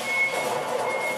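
An electronic beeping tone in the PS3 game Alien vs Predator, heard as a thin, steady pitched signal over a dense rushing background, fairly loud and without speech.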